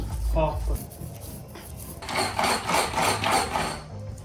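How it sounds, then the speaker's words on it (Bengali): Dried chillies being crushed into flakes in a home kitchen: a rough grinding and pounding clatter that swells into steady, fairly loud bursts over the second half, with brief voice-like sounds near the start. "আর এইদিকে আমি চিলি ফ্লেক্স বানিয়ে নিচ্ছি"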